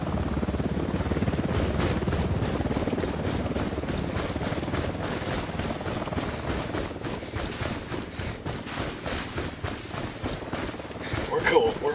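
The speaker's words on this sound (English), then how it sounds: "We got a chopper." Helicopter in the video game Ghost Recon Wildlands, a steady rotor drone and wind-like rush running throughout at moderate level, with voices and gunfire-like clatter mixed in.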